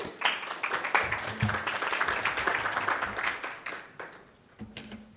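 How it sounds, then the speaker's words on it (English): A conference audience claps for speakers Mark Gannett and Dr. Akanksha Pandit, a moderate burst of applause that tapers off toward the end, with a brief voice near the close. "please give them a round of applause."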